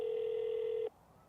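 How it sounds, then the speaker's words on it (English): A steady electronic telephone tone, heard while on hold with a Ford dealership, sounds for almost a second and then cuts off abruptly, leaving near silence. "I'm still on hold"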